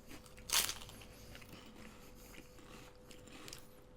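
One sharp, close crunch as teeth bite into a crisp fish-shaped wafer snack, followed by quiet, faint chewing.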